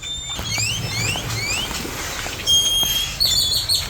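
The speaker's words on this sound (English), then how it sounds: "The birds are going off, as you can hear." Several jungle birds calling and chirping at sunrise in Corcovado National Park, Costa Rica, with rising whistled notes repeating over a soft background hum, some calls close and bright.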